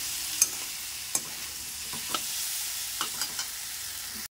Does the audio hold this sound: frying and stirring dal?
yes